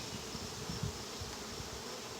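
A honeybee swarm buzzes in a steady, continuous drone that sits low and close around hive boxes during a swarm check, with no talking over it.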